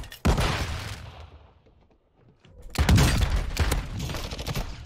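Shotgun blasts in Warzone 2.0, a loud burst of booming shots, a brief lull, then another heavy flurry of close gunfire.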